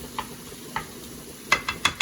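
Sausage sizzling in an olive oil pan while being chopped and stirred, with soft frying hiss and several sharp utensil scrapes and clacks against the pan toward the end.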